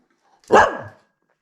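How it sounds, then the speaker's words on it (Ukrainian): A single sharp dog bark, close and fairly loud, with a short tail and silence around it. "Боже, ненаситна собака."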